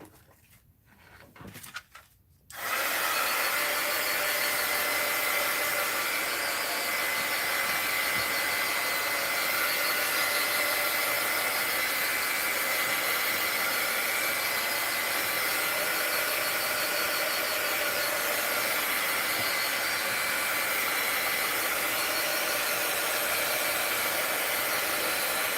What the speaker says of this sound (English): Let's hit that with the heat gun.